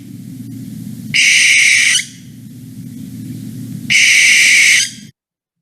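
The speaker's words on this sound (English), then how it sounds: "That is the screechy call of the barn owl." A barn owl gives two harsh, drawn-out screeches, each about a second long and separated by a pause, loud and near over a low background rumble.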